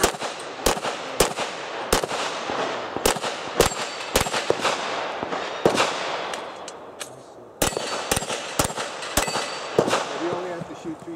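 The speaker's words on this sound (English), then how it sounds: "you can get into the box and shoot all the little stuff, the plates, the small poppers" Rapid pistol shots ring out at a steel shooting match, many sharp cracks in quick irregular bursts mixed with metallic clangs of rounds striking steel plates and poppers, loud and close over a noisy outdoor range.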